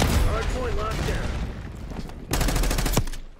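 Gunfire in the video game Call of Duty Black Ops 6 crackles amid battle noise, then a sharp rapid burst of automatic shots cuts in near the end. A voice talks over the early part.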